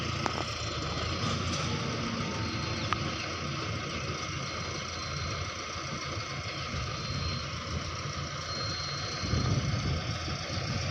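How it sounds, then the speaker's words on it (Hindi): A Mahindra 655 tractor engine idles steadily after a restart, a continuous low diesel rumble with a faint knocking rhythm that holds evenly and close by, with no talking. "देखना जी ट्रैक्टर की आवाज़ कैसी कुछ आवाज़ है जी"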